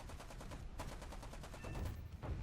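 Rapid bursts of cannon fire from an SB2C-5 aircraft in War Thunder hammer out in a fast, even rhythm, a continuous stream of sharp shots with a brief pause partway through.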